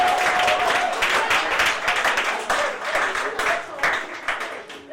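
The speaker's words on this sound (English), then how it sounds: "Round of applause for Patty" Comedy club audience applauding a volunteer after a stand-up bit, a steady dense wash of clapping that holds for the whole stretch with slight swells, fairly close and full.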